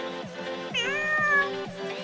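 A cartoon kitten meows in a loud, drawn-out, rising and falling cry, heard alone over a steady rhythmic musical background.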